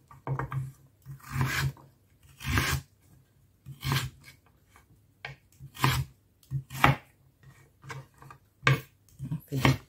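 Knife chopping vegetables into small sticks on a cutting board while cooking shrimp fried rice, a series of crisp, close, irregularly spaced cuts with short pauses between bursts.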